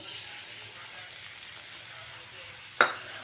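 Finely chopped onion hitting hot oil in a kadai gives a steady, moderate sizzle throughout, with one sharp brief clatter near the end; no talking.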